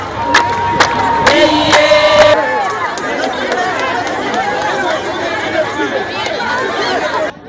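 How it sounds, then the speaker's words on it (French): Crowd hubbub and cheering as a head of state takes a walkabout among the public in the upper town of Gawa, with a dense, continuous roar of voices, a few scattered claps and louder bursts early on, close and steady throughout. "Le chef de l'État prend un bain de foule avant de prendre la direction de son pied-à-terre sous les ovations."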